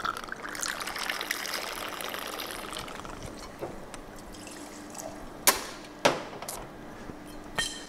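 Casamigos tequila, Campari and Pedro Ximenez poured at a bar counter, a steady liquid trickle up close, followed by a few sharp clinks of glass or ice near the end.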